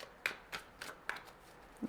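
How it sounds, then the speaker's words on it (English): Tarot cards being shuffled by hand, a quiet run of soft papery riffles and taps spaced through the moment, close and faint with no talking. "I'm going to shuffle a little longer"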